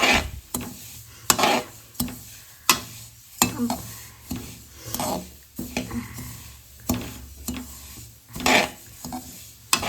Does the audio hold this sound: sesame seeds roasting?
yes